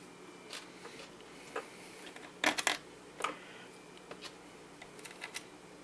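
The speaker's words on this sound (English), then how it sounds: "Just line up this cover so that the tabs go in like so, and just lock it down." The plastic cover of a Macintosh PowerBook G3 Wallstreet laptop is lined up and locked into place, giving a few scattered close clicks and light plastic snaps, including a sharper cluster midway, against a quiet room.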